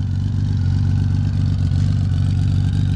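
A motorcycle fitted with Mark T exhaust pipes idles at the start of the riding season. Its loud, steady low rumble comes from close by and runs through the whole clip with no talking.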